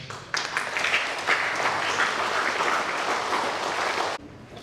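Sustained audience applause fills a meeting hall at a cooperative's annual members' assembly, rising abruptly, holding steady and loud for about four seconds, then cutting off.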